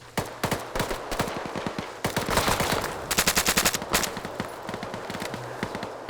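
Battle gunfire in the military game Arma 3, with dense overlapping rifle and machine-gun bursts and single shots, some close and loud and others farther off, continuing throughout with no talking.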